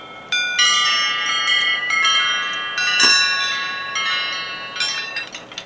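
A large cast iron wind chime topped with a winged pig rings in clear, sustained metallic tones, several strikes overlapping and decaying, close and alone.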